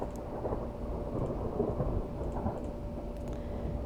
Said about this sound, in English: talk to me about the storm